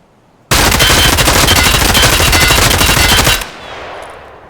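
Assault rifle in Escape From Tarkov fired on full auto: one loud, unbroken burst of rapid shots, close and dominant, lasting about three seconds before cutting off into a fading echo.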